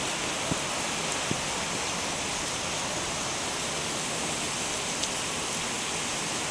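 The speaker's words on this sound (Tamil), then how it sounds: "ஈவினிங் வந்து பயங்கர மழை, நல்ல மழை பாருங்கள்." Heavy rain pours down in a dense, steady roar, with a few faint drips and taps breaking through the constant wash of sound.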